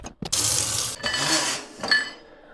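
A whisk beaten briskly inside a bowl, with rapid clinking strokes in a couple of close, loud bursts separated by brief pauses; no one talks.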